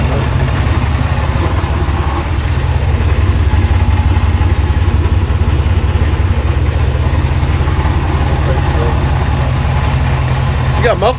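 A 6.2 or 6.0 LS V8 idles loud and close in a shop, a steady, dense rumble running throughout with a faint voice or two beneath it.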